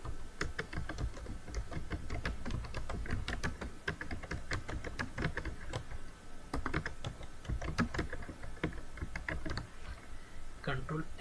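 Fast, irregular clicking of keys on a computer keyboard as a name is typed, close and clear, with short pauses between bursts and no talk.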